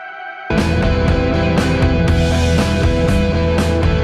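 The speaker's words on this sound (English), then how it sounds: "Could put a decapitator on it, so an extra kind of distortion." A rough rock track pushed through Soundtoys Decapitator distortion kicks in after a brief quieter lead-in, then runs loud and dense with steady drum hits and saturated, gritty tone throughout.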